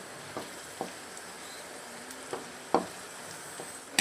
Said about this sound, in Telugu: బాగా కొద్దిగా గోల్డెన్ బ్రౌన్ వచ్చే వరకు వేయించుకుందామండి.